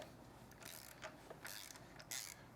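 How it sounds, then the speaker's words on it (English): A socket ratchet with a 22mm socket backs out the swing arm pivot bolt on a Triumph Street Twin motorcycle, giving a few short bursts of ratcheting clicks, close and quiet. "And then you put your socket on and turn it out."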